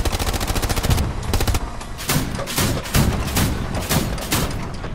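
Sniper rifle fire in the World War II shooter Hell Let Loose, with a fast run of cracking shots followed by heavier, spaced reports, loud and close, with no talk.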